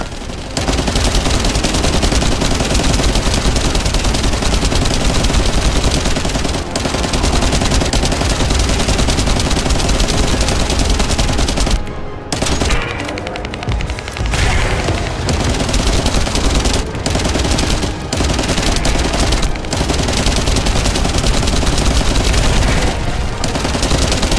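A big gun in the video game The First Descendant unleashes loud, continuous automatic fire during a boss fight against The Hanged Man, dense bursts hammering on with only a brief lull midway.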